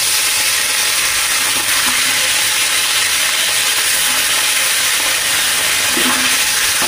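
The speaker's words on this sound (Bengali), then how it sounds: "এবার দ্বিতীয়বার আমি ভেজে নেব।" Bhola fish pieces fry in oil in a pan over a gas stove, a loud, unbroken hissing sizzle that holds steady throughout with faint crackles underneath.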